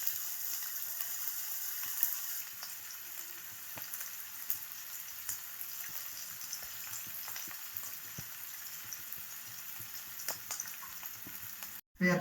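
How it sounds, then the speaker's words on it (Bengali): Oil sizzles in a pan with whole bay leaf, cinnamon and cardamom, with onions going in to fry. A soft, steady crackle and hiss runs throughout at a quiet level, then breaks off briefly just before the end. "মশলাগুলো ভাজা হয়ে গেলে এতে দিয়ে দেবো পেঁয়াজ।"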